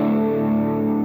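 An electric guitar plays through a NUX MG-300 multi-effects unit set to a Vox AC15 class A amp model, giving a steady, sustained, distorted chord that rings evenly with no pause.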